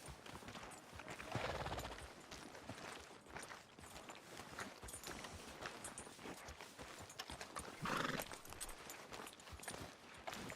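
Horse hooves clip-clop at a walk in the video game Red Dead Redemption 2, a faint irregular patter of hoofbeats heard alone.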